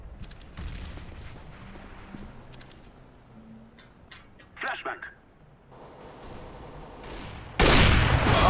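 Counter-Strike: Global Offensive gunfire, with short bursts of shots in the middle over game noise and a loud burst of rough noise at the end, while players talk.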